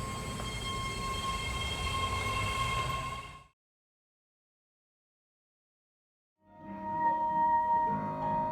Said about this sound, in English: It's time to take the train.